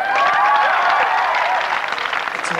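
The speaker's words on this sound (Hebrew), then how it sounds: "כפיים!" An audience bursts into applause, a steady wash of clapping that holds for a couple of seconds and then thins out toward the end.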